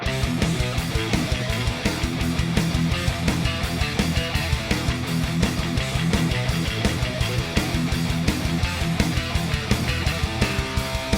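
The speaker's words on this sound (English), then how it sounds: "we're gonna play what's called pull-off riffs." A distorted electric guitar plays a fast, busy metal riff built on pull-offs, with quick repeated notes, dense and driving throughout, no voices.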